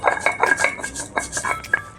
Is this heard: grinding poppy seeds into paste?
yes